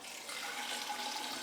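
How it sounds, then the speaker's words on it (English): Water poured from a Nalgene bottle into a pot of chicken soup made from a 5.5 pound bird, a steady close splashing pour with no pauses over about a second and a half. "So now I'm gonna go ahead and add probably 2 cups of water"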